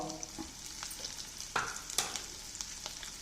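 Crushed garlic and asafoetida sizzle steadily in hot oil, a dense close crackle with scattered louder pops and soft stirring scrapes, no voices.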